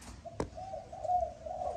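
A Malaysian spotted dove gives a sustained, mellow coo close by, held steadily for over a second just after a single sharp click.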